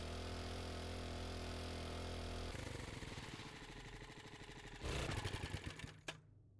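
In the video game 7 Days To Die, a minibike engine idles with a steady mechanical putter that shifts into a rougher, pulsing rhythm before rising briefly and cutting off.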